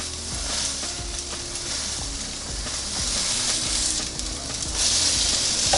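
Crab cakes searing on a NuWave Primo grill oven just after flipping give off a steady, dense sizzle that swells slightly toward the end, close up with no voices.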